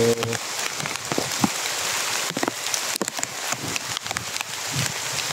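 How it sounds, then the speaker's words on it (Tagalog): Heavy rain pours down steadily, a dense hiss of drops striking surfaces with occasional louder splashes and drips, continuous and close throughout. "umulan dito sa amin eh. Malakas yung ulan."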